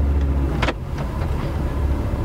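Tata Zest car in automatic drive mode pulling away, a steady low engine and road hum with a brief whoosh partway through, close and fairly loud with no talking.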